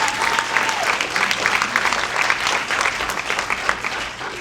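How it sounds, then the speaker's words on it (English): An audience at a post-screening science film discussion at the Coolidge Corner Theater applauds, a steady wash of many hands clapping at even loudness throughout, with no voices over it. "let's give them a big round of applause"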